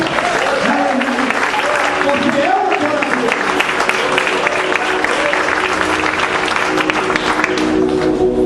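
Congregation applause in a church, a steady dense wash of clapping filling the whole stretch while a preacher keeps speaking over it.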